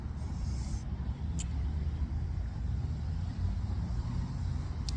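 Three lanes of road traffic around a roundabout, a constant low rumble of engines and tyres with a faint hiss of an air brake, heard from nearby.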